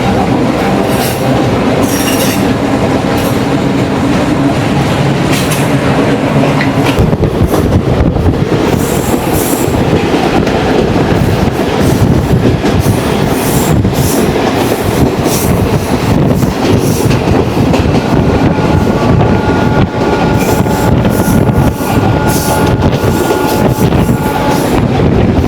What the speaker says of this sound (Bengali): এটা হচ্ছে একটা লোকাল মেইল ট্রেন বলা চলে